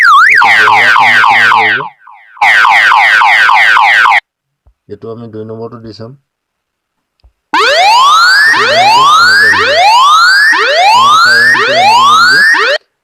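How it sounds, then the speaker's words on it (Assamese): Mobile phone anti-theft app alarm sirens played through the phone's speaker, with loud rising and falling electronic wails in repeated sweeps, a pause with a brief quieter tone, then a fast repeating whooping siren pattern, and someone speaking briefly between them. "ইমানখিনি চাইৰেন আছে"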